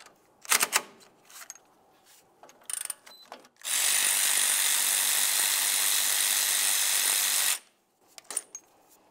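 A power tool removes two 10mm caliper mounting bolts on the rear differential of a 1998-2002 Lincoln Navigator: a sustained whirring run of several seconds, flanked by short ratcheting clicks and metallic clinks, close and without talk.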